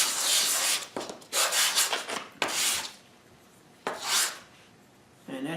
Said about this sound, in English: all I do is just slightly sand these to get rid of that burr